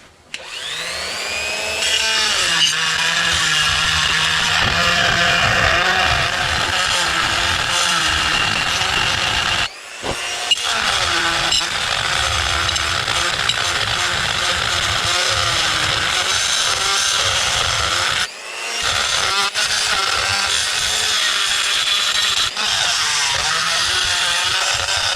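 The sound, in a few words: grinding out a cylinder head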